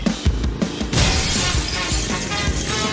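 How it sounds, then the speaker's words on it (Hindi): Glass shatters sharply at the start, followed by a scatter of tinkling, clattering shards and crashes over the next few seconds. "वो कांच को क्यों तोड़वाया?"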